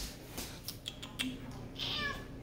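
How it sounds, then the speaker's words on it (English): A cat meows a few times, short and fairly quiet, over steady room noise with some faint background sounds. "That's my kitty cat."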